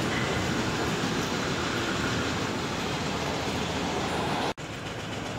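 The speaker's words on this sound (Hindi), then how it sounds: "ये है मेट्रो, हम लोग मेट्रो स्टेशन से एयरपोर्ट के लिए पहुंच गए हैं" A Delhi metro train heading toward the airport rumbles steadily with a dense, roaring rush and faint rail clatter, close and continuous, broken only by a momentary dip near the end.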